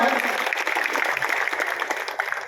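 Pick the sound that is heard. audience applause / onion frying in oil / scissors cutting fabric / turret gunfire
audience applause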